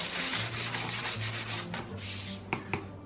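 Sandpaper rubbed back and forth over a PVC pipe to strip factory markings before painting, a close, raspy scrubbing in repeated strokes, ending with a couple of light taps.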